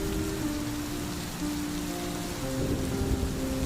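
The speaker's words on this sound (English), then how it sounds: "The rain continued until dawn." Steady rain falling through the night, a continuous dense patter with no voices, even and moderately soft throughout.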